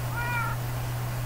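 A cat meows once in the video game Minecraft, a short rising-and-falling harmonic cry over a steady low electrical hum, with no talking.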